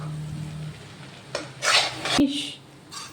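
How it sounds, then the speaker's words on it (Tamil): Spaghetti pasta tossed with pepper in a pan, a few short scrapes and bursts of stirring over a quiet background, with a brief clink of utensil against metal. "கிண்டிக்கலாம்."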